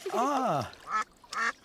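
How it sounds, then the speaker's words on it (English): Cartoon ducks quack in a short burst of two or three nasal calls, close and clear, with a brief spoken exclamation mixed in. "Quack, quack."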